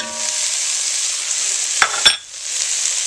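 Minced chipotle pepper sizzles steadily in a hot pan for a few seconds, with two sharp scraping stir strokes near the end before the frying hiss resumes, close and fairly loud with no talking.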